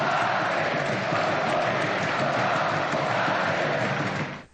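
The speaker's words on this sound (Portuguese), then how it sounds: "No fim do estranho jogo, a torcida do Corinthians cobrou" Corinthians football fans protesting in a stadium: a broad, continuous roar of a large crowd chanting and shouting at a distance, steady and loud before cutting off at the end.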